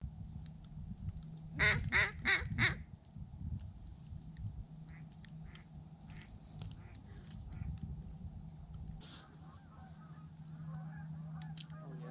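Ducks on a snowy November hunt in Michigan give a burst of loud honking quacks near the start, followed by quieter scattered calls over steady low wind or engine rumble.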